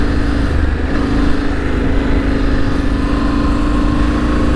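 A 2025 Yamaha Ténéré 700 motorcycle rides a sand track on a large sand island, its engine a loud, steady, close droning hum with no break.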